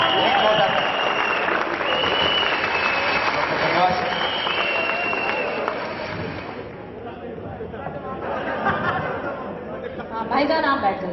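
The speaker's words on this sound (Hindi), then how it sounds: "तो है जोरदार तालियां एक बार पुनः बजाएं" Audience applause at a Hindi poetry recital (kavi sammelan) held at an engineering college, a dense steady clapping wash from a large crowd with murmuring chatter underneath, thinning slightly midway before swelling again.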